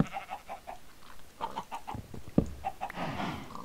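Several Minecraft chickens cluck in short repeated bursts, fairly quiet and close, with a few scattered louder squawks and light rustling.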